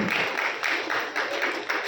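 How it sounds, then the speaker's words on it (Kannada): An audience at a stage event claps steadily, with dense, crackling applause swelling in regular waves. "ನೀವು ಕೂಡ ನಿಮ್ಮ ಚಪ್ಪಾಳೆ ಮೂಲಕ ಅವರನ್ನು ಪ್ರೋತ್ಸಾಹಿಸಬೇಕು"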